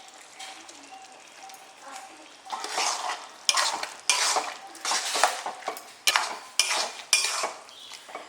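Ground poppy seed paste being stirred into cooked ridge gourd and potato in a pan, a run of rhythmic scraping strokes growing louder after a quiet start, close and clear.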